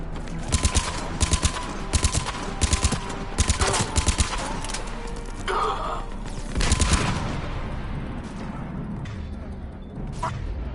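Gunfire in a Mass Effect 3 firefight aboard a downed vessel: repeated short bursts of automatic weapon fire in a stuttering rhythm, loud and close, with a whooshing impact midway and sparse shots trailing off near the end.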